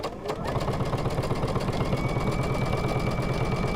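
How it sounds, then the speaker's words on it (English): A sewing machine stitches quilt pieces together in a steady, fast mechanical whir that stays loud and even throughout, close by, with no talking. "We're going to take the top 2 pieces and sew them together"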